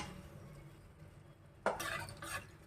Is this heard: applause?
no